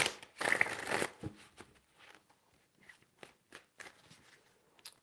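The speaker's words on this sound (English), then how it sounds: "Four shuffles." Tarot cards are shuffled in a quiet room, with a dense riffling burst for about a second followed by scattered soft taps and flicks.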